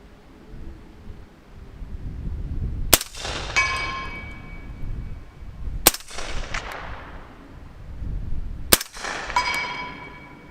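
Three subsonic .300 Blackout shots fired at a steel target, each a sharp crack followed by a bright ringing clang of struck steel that decays over a couple of seconds, spaced about three seconds apart outdoors.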